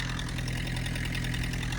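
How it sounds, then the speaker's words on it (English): A Ford PowerMaster tractor engine idles steadily and close by as it warms up, a constant rumbling run with no talk. "I'm gonna let it run for a few minutes to get hot, see what it does before I try working it."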